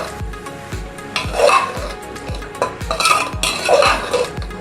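Mint being stirred into mutton gravy in a metal pan, with a rhythmic series of loud scraping and clanking spoon strokes over a soft simmer. The sound is close and steady, with no talking.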